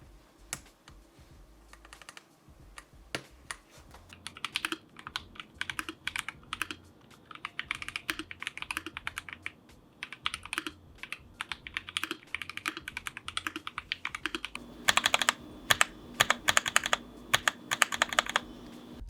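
Steady bursts of clicky mechanical keyboard typing, close up, with a louder flurry of rapid keystrokes near the end and no voice.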